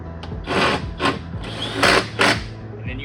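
A screw driven into a wooden Adirondack chair with a power driver, several short whirring bursts in an uneven rhythm, close and moderately loud with faint rubbing between them.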